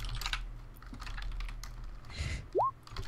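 Keystrokes on a computer keyboard while typing into an online tabletop game chat, a soft scattered run of clicks with a brief chirp near the end, fairly quiet in a room.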